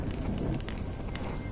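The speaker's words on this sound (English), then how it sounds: "only when I look at this vibrant red fire" A fire crackles in Honkai Star Rail with small irregular pops over a low steady rush, quiet and close, with no voices.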